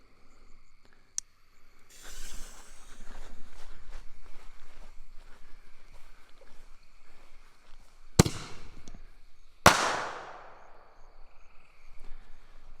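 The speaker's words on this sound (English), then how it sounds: "These are pretty good little artillery shells." Small consumer firework artillery shells go off outdoors: a scatter of soft crackles and fizzing, then two sharp, loud bursts a second or so apart, each leaving a brief fading crackle.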